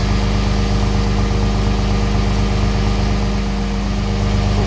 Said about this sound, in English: So it's a little noisy, it's a diesel.